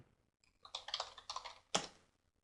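Keystrokes on a computer keyboard come in two quick close-up bursts of rapid clicking, then one sharper clack, all without any talking.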